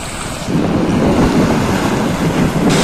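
Monsoon sea waves wash and splash loudly and continuously at the jetty by Janjira fort, mixed with strong wind buffeting the microphone.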